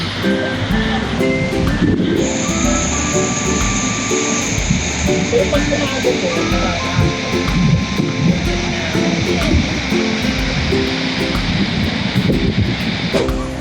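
Continuous roar of big ocean waves and gusty wind on Boracay Beach, with distant voices and an aircraft droning overhead.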